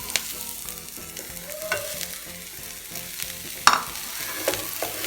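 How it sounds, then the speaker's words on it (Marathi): A spoon stirs and scrapes through paneer paratha stuffing with chilli powder, salt and chopped coriander, giving soft continuous rustling and mashing with a couple of light clinks; no talking. "आता हे सगळं मिक्स करून ह्याच्यामध्ये पनीर ॲड करायचं आहे"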